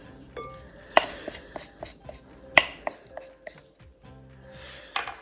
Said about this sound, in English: And now it's time to mix everything together.